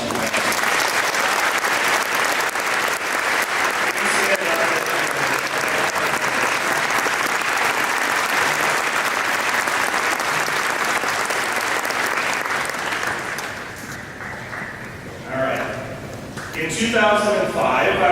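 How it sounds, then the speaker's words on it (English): Audience applause fills a high school assembly hall, a long dense sustained clapping that stays loud and steady before thinning out near the end, where voices begin speaking. "please offer a round of applause."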